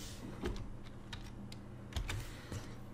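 Quiet, irregular clicking of keys on a computer keyboard, a few soft taps spread across a few seconds, close but faint, with no talk.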